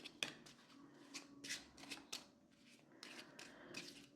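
A Gypsy (Cigano) fortune-telling card deck being shuffled, giving a run of quick papery riffles and flicks in uneven bursts, close and fairly quiet, with no talking.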